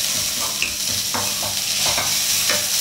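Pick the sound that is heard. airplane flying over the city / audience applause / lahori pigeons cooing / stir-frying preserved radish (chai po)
stir-frying preserved radish (chai po)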